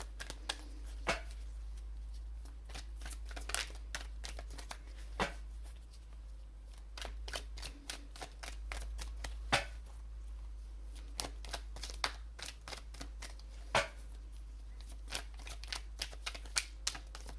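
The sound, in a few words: shuffling tarot cards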